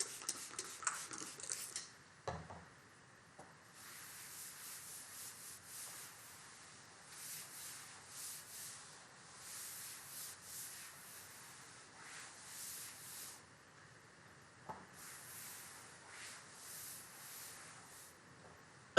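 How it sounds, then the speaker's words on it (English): Quiet, intermittent rubbing strokes of writing being erased from a classroom board during a precalculus lesson, soft scuffs in bursts with pauses, no speech. "So I'm going to erase this."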